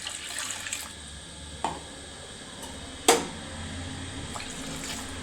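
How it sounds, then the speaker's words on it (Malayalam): Water pours with a soft, continuous wash into a pot of fish curry made with chilli, ground coconut and mango, with a couple of sharp clinks along the way. "വെള്ളമൊക്കെ പോരാ, ഒഴിച്ചു കൊടുക്കണം."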